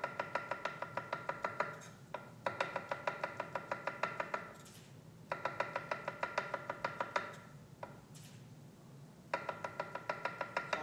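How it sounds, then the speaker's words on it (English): Rapid, even knife strokes slice halved mushrooms thinly on a cutting board, coming in several quick bursts of steady tapping with short pauses between them, close and clear with no voices. "I cut them in half. And then cut each half in thin slices"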